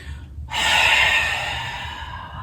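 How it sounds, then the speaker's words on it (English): A deep exhale during a pranayama yoga session as the body folds forward, a single long breathy rush that starts abruptly and fades slowly, close and fairly soft. "arms up, we're gonna exhale, fold forward"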